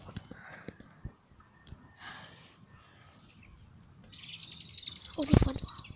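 Birds chirping outdoors, scattered thin tweets near and far, then a louder burst of rapid chatter toward the end, with soft rustling and faint background noise around them.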